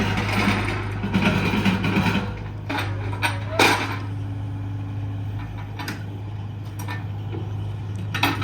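A John Deere 60G compact excavator works among wood debris, its steady low engine drone running throughout with intermittent metallic clanks, rattles and knocks from the arm and bucket; no one speaks.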